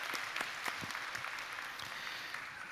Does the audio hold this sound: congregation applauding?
yes